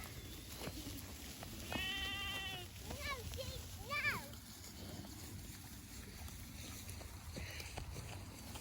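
Several sheep bleats, wavering and fairly close, over a noisy outdoor background with a voice talking faintly.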